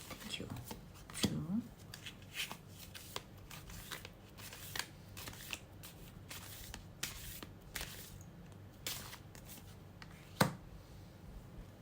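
Soft, rapid papery riffling of oracle cards being shuffled in repeated bursts, close by, with occasional sharper taps and a quiet background hum.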